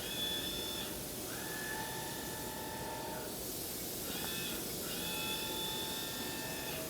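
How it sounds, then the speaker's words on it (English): Spindle of a Fadal vertical machining center whirring up to speed, holding a steady high tone, winding down, then spinning up again over a constant machine-shop hiss. "You've heard the spindle go."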